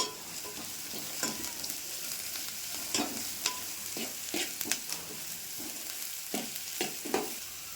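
Curry leaves and chopped green chillies sizzle and crackle in hot oil, with a steady frying hiss broken by scraping stirs and sharp pops throughout.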